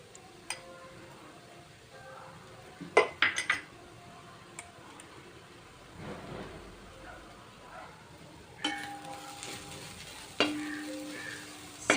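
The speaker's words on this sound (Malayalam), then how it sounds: "ഒരു സ്പൂണ് മുളക് പൊടിയും അര സ്പൂണ് ഗരം മസാലയും ചേർത്ത് സവാള നന്നായിട്ട് വഴറ്റിയെടുക്കുക" Onions sautéed with chili powder and garam masala sizzle softly in a pan, with sharp clinks and scrapes of a metal spoon stirring at intervals; a few faint voices are heard in the background.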